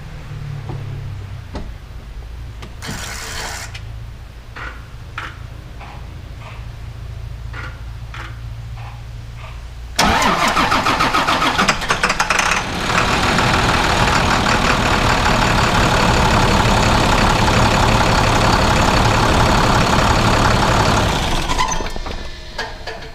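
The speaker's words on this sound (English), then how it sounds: "I'm gonna go ahead and fire this thing up real quick." Isuzu chipper truck diesel engine, just after an EGR valve replacement, cranking with ticking, then catching at once and settling into a loud, steady, rumbling idle that runs on alone before easing off near the end.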